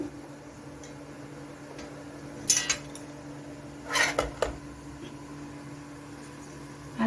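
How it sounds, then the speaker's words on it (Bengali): A metal plate is set onto a stand inside a wok of heated water for steaming bhapa dhoka. Two brief clusters of sharp clinks and scrapes sound close by over a faint steady hum, with no talk. "এখন আমি থালাটা বসিয়ে দিচ্ছি"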